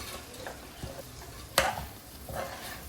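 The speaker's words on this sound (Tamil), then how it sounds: "இந்த காய்கறியோட சேர்ந்து இந்த பாஸ்மதி ரைஸையும் நம்ம கொஞ்சம் கலந்துக்கலாம்" Basmati rice tossed with vegetables for veg pulao is stirred in a pan, giving soft scraping and a gentle sizzle with one sharp clack of the spoon midway, fairly quiet and close.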